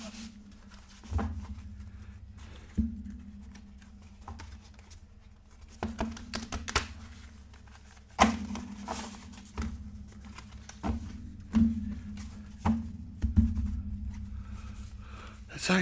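Marvel United game cards are shuffled by hand in a quiet room, a series of soft, papery riffling bursts and taps spaced a second or two apart.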